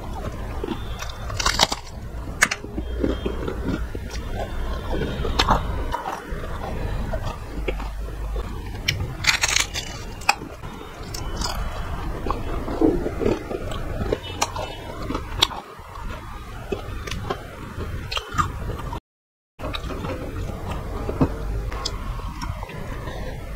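Crunchy nimki, a fried Indian snack, is bitten and chewed close to the mic, with sharp repeated crunches and softer chewing throughout.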